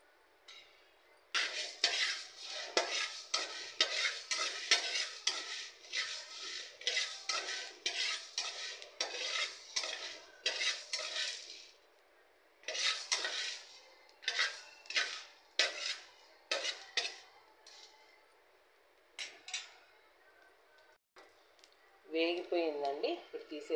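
Tempering for pulihora in a large pan: repeated metallic stirring and scraping with clinks of a spoon against the pan, coming in bursts with pauses, and a voice talking over it.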